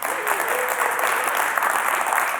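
Crowd at a tech conference talk claps and calls out to pick a topic, steady dense applause with scattered cheers and voices, fairly loud throughout.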